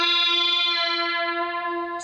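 A guitar synthesizer plays a single straight note without the added fifth, a clean steady tone with even harmonics that rings and slowly fades over two seconds, ending with a short click.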